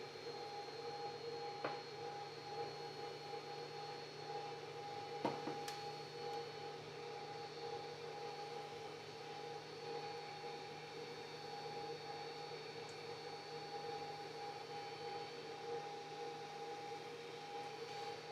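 A 3D printer printing a cube makes a steady mechanical whir with tonal motor hums throughout, broken by a couple of sharp clicks; no one speaks.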